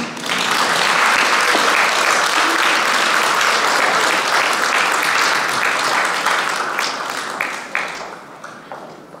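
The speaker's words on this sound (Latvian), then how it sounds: "Sagaidām ar aplausiem!" Sustained applause from a concert audience at a folk dance anniversary event, loud and dense for about eight seconds before thinning out and tapering off near the end.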